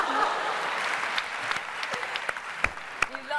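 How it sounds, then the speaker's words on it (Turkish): Studio audience applauding on a Turkish talent show, a steady clapping wash that becomes sparser and more uneven toward the end, with a few sharp individual claps standing out. "İçimizdeki İrlandalı Hülya Avşar'ı alkışlıyoruz."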